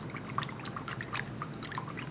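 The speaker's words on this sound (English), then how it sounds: "to get that molasses to disperse, some hot water" Hot water poured into molasses for a Thai glass noodle salad dressing, faint liquid trickling with a string of small drips and splashes throughout, quiet and close.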